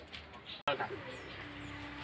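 Pigeons under flying training, with a tumbling bird performing overhead, give faint scattered coos and calls beneath a steady outdoor hiss, interrupted by a sharp brief dropout and thump partway through.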